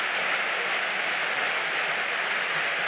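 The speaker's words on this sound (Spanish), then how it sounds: "Bate palmas el Madrid Arena." The crowd at the Madrid Arena claps in rhythm during a padel final, a dense, even wash of applause that stays loud and continuous without a break.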